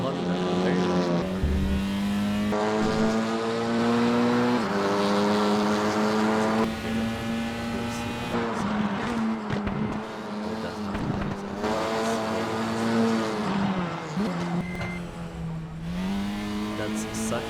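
Honda race car engine in the WTCR racing video game, a loud sustained high-revving drone with rising and falling pitch through gear shifts, continuous for the whole stretch with no talk over it.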